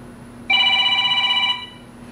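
Telephone in a machine-tool workshop giving one electronic ring, a clear steady tone lasting about a second that starts abruptly and then cuts off, with no speech.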